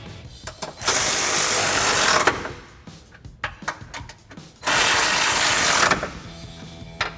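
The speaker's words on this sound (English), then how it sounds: "I'm going to be using that 18mm deep socket, my electric ratchet for the outside bolts." An electric ratchet with an 18mm deep socket backs out factory bumper bolts on a Jeep Wrangler JK, giving two loud sustained whirring bursts of about one and a half seconds each, separated by clicks and handling clatter.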